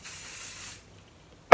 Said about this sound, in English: I'm gonna spray with some of the Freeze Baby hairspray